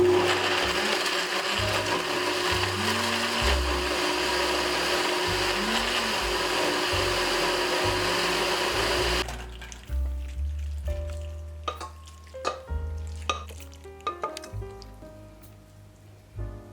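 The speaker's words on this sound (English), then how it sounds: "you can basically just blend everything until it's super smooth." A blender purees vegan pasta sauce ingredients with a loud, continuous whirring hum for about nine seconds, then cuts off, leaving soft clinks and kitchen handling noises.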